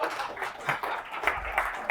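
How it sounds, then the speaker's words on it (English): Audience at a LabVIEW and TestStand developer conference in Boulder applauding, a short, moderately loud patter of many hands clapping. "Round of applause for these guys."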